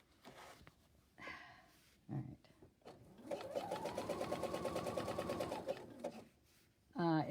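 A sewing machine stitches thick cape fabric along a curve, running steadily for a few seconds in a fast, even mechanical buzz, with brief speech and handling noises before and after the run.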